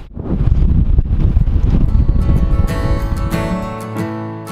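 Strong wind buffets a sailboat at anchor in the Bahamas, a steady loud roar with microphone wind noise and rigging tones emerging toward the end.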